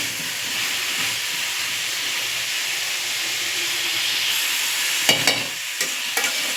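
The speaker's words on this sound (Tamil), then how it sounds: "இது நல்லா எண்ணெயிலே சுருங்க வதங்கன்னா நல்லா டேஸ்ட்டாக இருக்கும்" Cauliflower stir-frying in oil with masala powders, a steady close sizzle and hiss from the pan, with a few clattering stirs of the spoon near the end.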